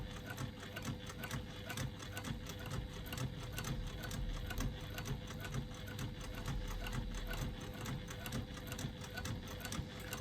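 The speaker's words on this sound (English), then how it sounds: "I'm top stitching 1/8 of an inch away from the top edge of my binding." A sewing machine runs steadily and slowly, topstitching an eighth of an inch from the edge of the binding on a fabric bag. The mechanical whir and needle rhythm continue alone and close by for the whole stretch.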